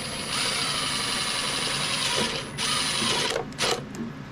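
Steady whirring drill grinding through a plastic overhead mount for an Anycubic Kobra 3 Max 3D printer, close and loud, briefly easing off and surging near the end.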